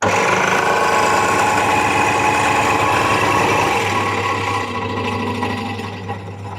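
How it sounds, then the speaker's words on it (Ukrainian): A Ronix 5701 scroll saw is switched on and runs with a loud, steady reciprocating buzz and whine, close up, shifting slightly in tone near the end as the speed changes, with no talking. "Так, давайте увімкнемо даний станок."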